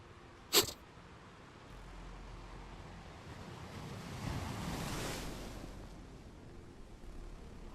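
Ocean surf from the Fluid Flux water simulation in a game washes in steadily, one wave swelling to a broad roar at mid-clip and then easing, with a short sharp click near the start and no speech.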